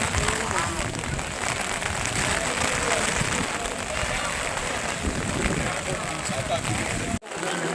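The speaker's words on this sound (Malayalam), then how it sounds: "ചെറിയ മഴ പെയ്ത് തുടങ്ങിയിട്ടുണ്ട്" Steady patter of light rain across the whole stretch, dense and continuous, with a brief drop-out near the end, on the trail to Kudajadri.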